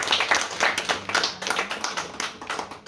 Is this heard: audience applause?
yes